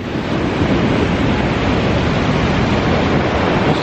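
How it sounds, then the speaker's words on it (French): Ocean waves breaking on a rainy beach in Pololu Valley, Hawaii, a steady loud roar of surf and wind noise with no pauses. "Regardez les vagues."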